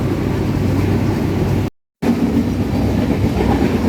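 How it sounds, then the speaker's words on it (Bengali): Electric locomotive powering the Rupsha Express on a long Khulna rail journey, running as a steady loud rumbling drone with rail noise, interrupted by a brief gap of silence before resuming. "এই যে দেখুন ট্রেনটি পুরো পাওয়ার দেওয়ার জন্য এই ইঞ্জিন ব্যবহার করা হয় এখানে"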